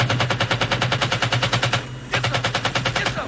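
Machine gun fire from Full Metal Jacket, rapid sustained bursts of regular loud shots with a short pause in the middle before the firing resumes, heavy and close.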